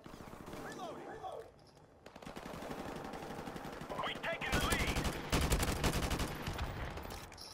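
Rapid bursts of AK-47 automatic fire in the video game Modern Warfare rattle through the mix, sparse at first and then heavier and denser toward the end, with game voices and commentary in the background.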